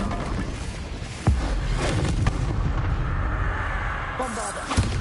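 Spell explosions in a Harry Potter video game roar and boom as a dense, loud rumbling blast, with sharper cracks near the start and end.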